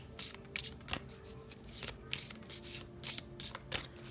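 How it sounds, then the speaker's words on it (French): Tarot cards are shuffled and drawn close up, a run of crisp riffling and slapping bursts in quick irregular succession, soft and without talk. "on va tirer une dernière carte conseil"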